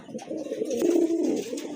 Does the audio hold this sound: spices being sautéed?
no